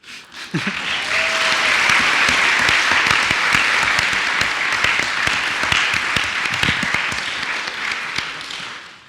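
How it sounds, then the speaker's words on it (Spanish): An audience at a presidential candidates' forum breaks into loud, sustained applause, many hands clapping steadily for several seconds before tapering off slightly. "Yo sé que sí aplauden."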